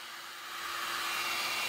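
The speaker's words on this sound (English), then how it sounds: "then we'll hit it with a hair dryer and evaporate all the moisture off of there" A hair dryer blows on freshly cleaned silver-plated wire, its steady whirring roar rising slightly as it runs close and loud with no other sounds.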